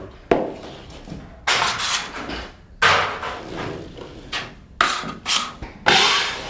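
A 6-inch taping knife scrapes dried joint compound from drywall corners in several short, rasping strokes separated by brief pauses, close and fairly loud.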